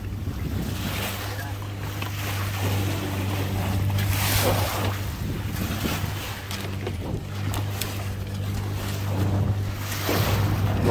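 A small pocket cruiser sailboat motor sails near the Port Stephens headland in light wind, its steady engine hum running under water wash and gusty wind noise on the microphone throughout.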